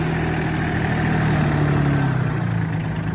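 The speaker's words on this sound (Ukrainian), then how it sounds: "Такий тракторець." A small Solis 26 tractor with a Mitsubishi engine idles steadily nearby, a low chugging hum with a constant rumble and no voices.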